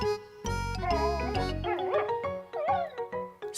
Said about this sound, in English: It was Snuffy the dog.